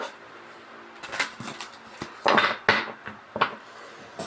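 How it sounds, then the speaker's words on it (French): A deck of oracle cards being shuffled by hand: soft papery riffles and light taps in quick irregular bursts, close and fairly quiet, with no talking. "Je remue mes oracles avant de faire les tirages"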